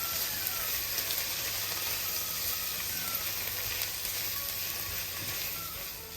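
Beef sautéed in a pan with a splash of cider vinegar, stirred as it cooks, gives a steady, soft sizzling hiss that runs evenly throughout and fades slightly at the end.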